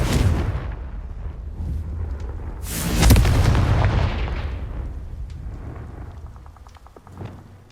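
A Confringo blasting curse explodes in Hogwarts Legacy: one heavy booming burst midway with a rumbling tail, set against a steady low ambient background.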